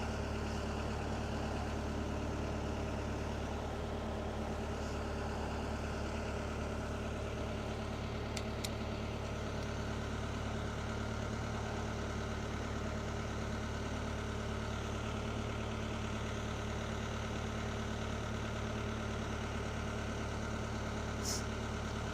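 A boat engine idles after a cold start with a fresh water cooling system, a low, steady, continuous rumble heard alone and close for the full duration.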